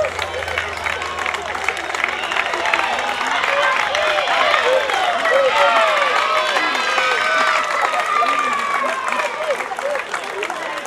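Roadside crowd at the finish sprint of a youth cycling race in Prevalle, Italy, applauding and cheering steadily, with clapping and excited voices close by throughout, and speech mixed into the crowd noise.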